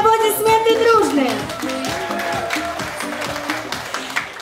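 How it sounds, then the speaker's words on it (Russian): Wedding guests clapping in unison at a celebration, a rhythmic run of applause that follows a host speaking over a microphone with music, the clapping continuing steadily under the voice. "Валерий, аплодисменты дружные!"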